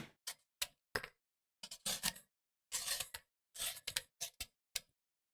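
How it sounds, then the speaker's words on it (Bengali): A raw mango is peeled by hand with quick, crisp scraping strokes, close up and in an uneven rhythm, with short silences between the strokes. "দেখুন আমি এখানে একটা কাঁচা আম নিয়েছি, আমটাকে কেটে নিতে হবে। তো তার আগে একটু ছুলে নেই।"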